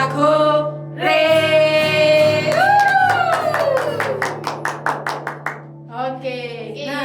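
A congregation at an online church worship service claps hands in a steady, regular beat under loud sung voices, the claps coming clearly from about three and a half seconds on before the singing returns.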